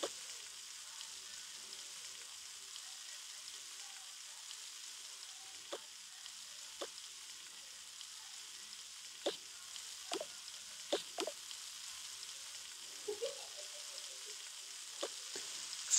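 Food sizzles and fries in a pan in the Toca Life World game: a steady, close hiss runs throughout, broken by scattered soft clicks and taps, with no voices.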